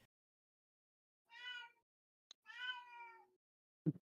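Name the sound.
cat meowing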